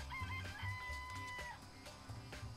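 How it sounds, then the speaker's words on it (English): Chickens cluck and crow in a coop in the video game Danganronpa: Trigger Happy Havoc, set against steady background game music. "I remember there were some chickens in chicken coop."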